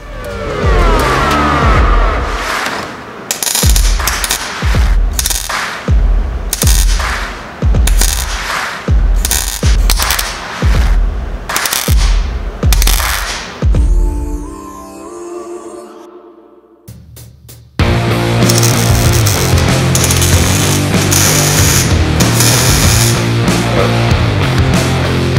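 Tack welding a replacement body panel on a rusted CJ5 Jeep: a series of short, sharp crackling weld bursts in an uneven rhythm, then a pause and one longer, continuous sizzling run, loud and close.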